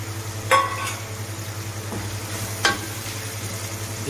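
Green peas and whole slit green chillies fry in a pot on a steady low sizzle, with two sharp clinks of a spoon stirring against the metal partway through.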